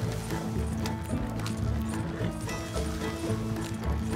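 Horses galloping in the video game Red Dead Redemption 2, rapid rhythmic hoofbeats and rattling tack at close range, continuous throughout amid wagon and mechanical clatter.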